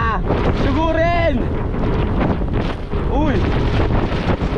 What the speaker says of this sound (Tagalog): Grabe lang sa hangin.